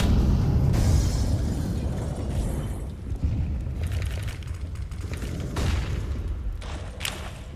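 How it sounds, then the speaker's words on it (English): A grenade explosion in Counter-Strike (CS:GO) lands as a loud, sustained low rumble that fills the whole stretch, with a few sharper pops and bursts layered on top. "Incendiary out. Grenade out."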